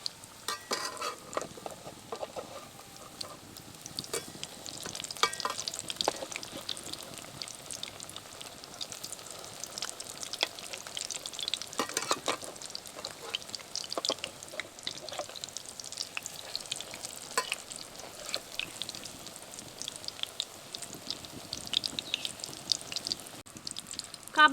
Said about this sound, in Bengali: কাবাবগুলো ভাজা হয়ে গেছে